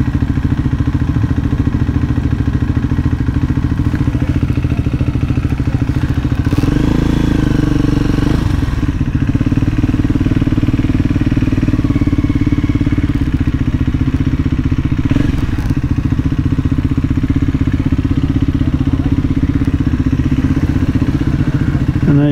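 A Scrambler 400 motorcycle rides along a coastal road on the North Coast, its engine droning loud and steady throughout with a brief swell of revving and clatter midway, heard close from the rider's position.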